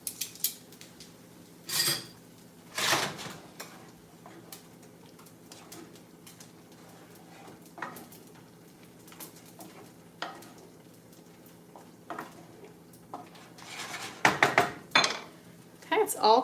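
Cooking in a pan while making sweet chili curry bowls: sparse, sharp metallic clinks and scrapes of a utensil against cookware, spaced several seconds apart over a quiet kitchen background, with a cluster of clatter near the end.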